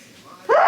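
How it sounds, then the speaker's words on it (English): A person sneezes close by: a brief rising breath, then a sudden loud explosive burst at the end. "I'm gonna sneeze."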